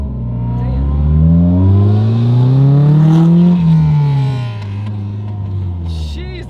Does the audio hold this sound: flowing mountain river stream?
no